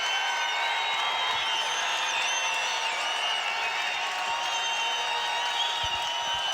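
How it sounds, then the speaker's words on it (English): A Wyoming home crowd roars inside a basketball arena, a sustained, loud wall of cheering and shouting that never lets up, with whistles and tonal arena noise riding on top. "Listen to this crowd."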